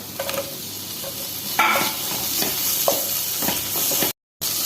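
Sliced onions sautéing in a pan for kothu chapathi, a steady soft sizzle with occasional stirring scrapes close by, no talking.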